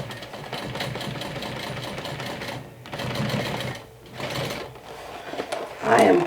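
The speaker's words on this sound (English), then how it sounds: "So if your machine can handle it, just keep top stitching through the handles, through where the handles are." A sewing machine top stitches through the handles of a combined handbag, backpack and crossbody bag, running in a steady continuous whir with brief slowdowns and a louder burst near the end, close up and with no talk.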